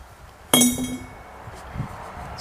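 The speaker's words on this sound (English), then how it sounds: "So this is the hand operated or manual operated hammer. Simply goes in and you hammer your ore." A steel hand hammer strikes ore inside a homemade pipe-and-plate mortar, giving one sharp, loud metallic clink with a ringing tone that fades slowly, followed by faint background noise.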